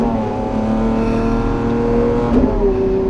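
Lamborghini Aventador SVJ engine revving hard at an airport, a loud, steady, close roar with a brief rising blip near the end, and no talking over it.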